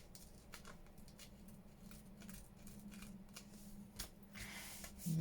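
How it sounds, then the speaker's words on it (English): Scissors snip through a piece of lace in a run of quiet, close, crisp cuts with small rustles of fabric, no voice. "let's cut this bit of lace off here"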